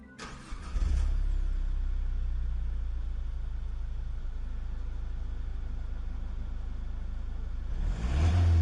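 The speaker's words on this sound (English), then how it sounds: "it sports a turbo diesel engine" A turbo diesel car engine in Gran Turismo Sport cranks and catches, then idles with a low, steady drone for several seconds before a rising rev near the end, no talk.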